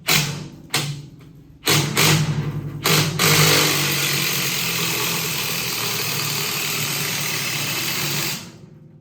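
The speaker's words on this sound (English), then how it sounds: "I'm trying to jack this up with rattle gun" A pneumatic rattle gun drives the threaded jacking screw of a TuffLift bike lift, a few short bursts followed by a long, loud continuous whirring run that cuts off near the end.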